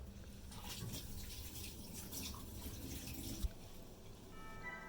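Hands being washed under a running kitchen tap while baking an apple crumble, a faint steady hiss of flowing water with a soft splash near the end, no talking.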